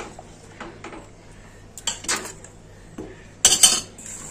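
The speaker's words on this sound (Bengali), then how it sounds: "নাড়িয়ে নেব।" A spoon clinks and scrapes against a pot while chana dal is stirred, several sharp metallic knocks spaced irregularly with a louder cluster near the end, over a faint steady hum.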